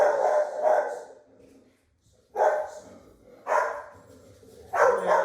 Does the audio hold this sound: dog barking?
yes